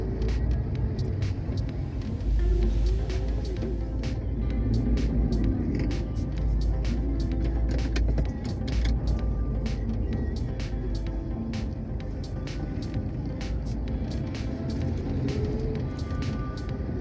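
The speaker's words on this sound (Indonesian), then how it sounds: "Banyak kendaraan yang nyebrang teman-teman di depan situ, makanya agak sedikit merayap." A car creeping through slow traffic on the eastern highway near Palembang, with a steady low engine and road rumble under clusters of sharp ticking clicks, continuous and close, with no talk.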